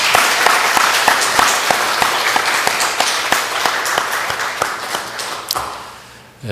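Church congregation applauding together, a steady, loud wash of many hands clapping with distinct sharp claps throughout, tapering off at the very end.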